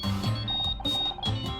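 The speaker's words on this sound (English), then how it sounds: "I think that's my phone" A phone rings in the video game Murder by Numbers, a repeating electronic ring tone with steady sustained tones, fairly loud and clear over faint game background sound, with no talking.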